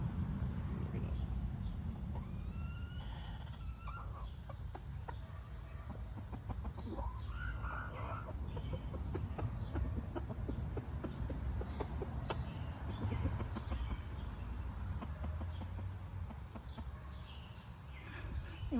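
Chickens clucking in a yard, scattered short calls over a steady low rumble of wind and background noise.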